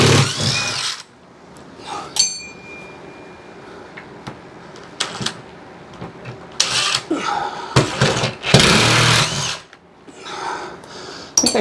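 Power drill driving screws during thermostat conduit work, with short, loud whirring bursts of varying length separated by pauses, close up, alongside clinks of handling.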